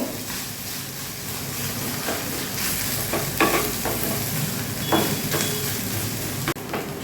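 Idli mixture stirred in hot refined oil with roasted coriander powder: a steady sizzle and fry hiss runs throughout, broken by scraping stirring strokes that recur every second or so, close and fairly loud.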